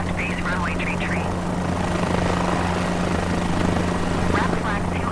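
A helicopter in Microsoft Flight Simulator 2020 flies from Mosul to Erbil in Iraq, a continuous loud rotor thrum and engine drone, with a radio voice talking over it in bursts.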